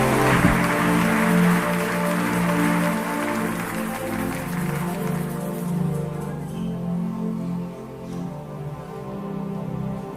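A church congregation applauds and acclaims Jesus, dense clapping over sustained music with a held tonal hum, the clapping thinning out partway through as the music carries on.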